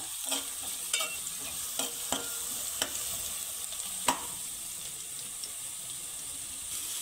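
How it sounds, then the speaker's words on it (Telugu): Sliced onions fry in a pan for chicken dum biryani, giving a steady faint sizzle with a few sharp clicks of a spoon stirring against the metal, no voices. "ఉల్లిపాయలు కొంచెం వేగాలండి, ఇంకా కొద్దిగా."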